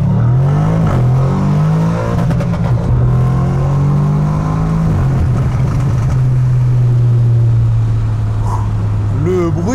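An Audi RS7 engine revs loudly up close, its steady deep drone rising and settling in pitch, holding a sustained roar throughout with a voice speaking briefly beneath it.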